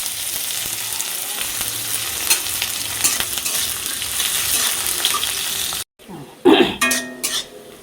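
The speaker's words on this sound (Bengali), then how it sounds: "পেঁয়াজটা ভাজা ভাজা হয়ে গেছে, লাল লাল হয়ে গেছে।" Onions sizzle loudly in hot oil with dried red chillies as the base for dal, a continuous frying crackle that cuts off abruptly, followed by a few brief clatters and a throat-clearing sound.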